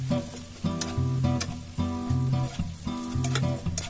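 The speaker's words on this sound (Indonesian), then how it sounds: "Saya pilih menumis daging cincangnya" Minced meat sautés in a pan as filling for cheese-stuffed meatballs, with a soft sizzle and occasional stirring scrapes under steady background music.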